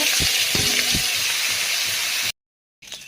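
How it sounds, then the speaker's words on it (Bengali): Small fish sizzling and crackling in hot oil in a home kitchen while making a gourd-leaf mash, a loud steady hiss with pops, cut off by a brief silence before the frying resumes. "তেলটা গরম হয়ে গেছে, মাছটা দিয়ে দিব।"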